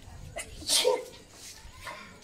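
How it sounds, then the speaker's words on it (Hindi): A single sharp sneeze bursts out near the microphone outdoors, with faint voices and breathing around it. "छींक दिया ना तूने वो डर गया"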